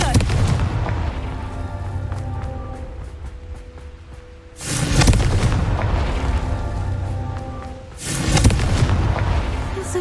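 Confringo fire spell explosions in Hogwarts Legacy: two heavy booming blasts a few seconds apart, each with a loud burst and rumbling tail over a continuous low game background.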